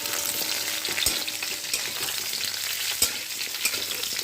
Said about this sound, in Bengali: কুলগুলো এবারে ভালো করে ভেজে নেব।